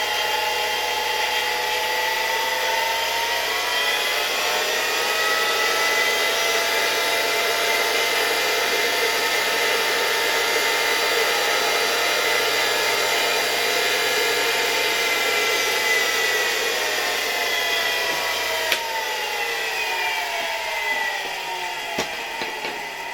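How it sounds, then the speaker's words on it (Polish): An old SK-5b electric motor from a 1965 Alfa K2 vacuum cleaner whines steadily at a high pitch for a long stretch, with a faint tapering near the end; no one speaks. "Silnik bardzo ładnie zaczął działać, nawet nie działa jakoś bardzo głośno, nie iskrzy tutaj mocno na szczotkach."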